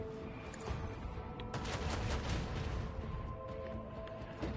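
Starship macro cannons fire a broadside in the Warhammer 40,000 Rogue Trader video game, a dense rumbling barrage of booming shots and crackling blasts rolling continuously with no talking.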